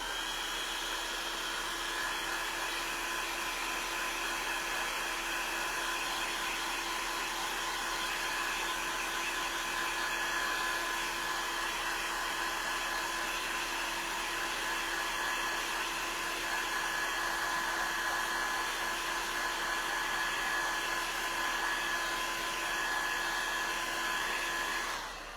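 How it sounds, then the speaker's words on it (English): A heat gun blows steadily and loudly, drying paint on a bucket for a floral craft, a constant whooshing drone that runs unbroken for the whole stretch with no voices. "And then I'm just going to dry it with the heat gun."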